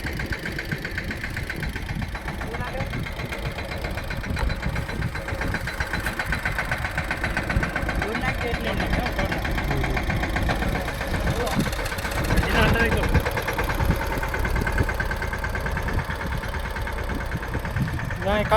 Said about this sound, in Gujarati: આવ્યા છે એનું મિની ટ્રેક્ટર લઈને